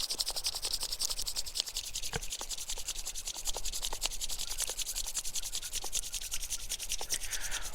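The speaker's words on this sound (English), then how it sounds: "briskly rub your hands like this" Palms rubbed briskly together, a steady close dry friction swishing that continues without pause throughout.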